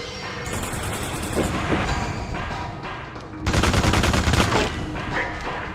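Gunfire in The Suffering during a boss fight: rapid, dense bursts of automatic shots, continuous and loud, with a heavier barrage after a short pause.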